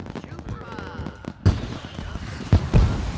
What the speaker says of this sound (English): Let's go watch the fireworks